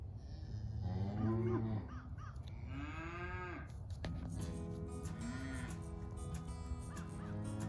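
Several cows moo one after another, loud and close, with long drawn-out calls over a steady outdoor background.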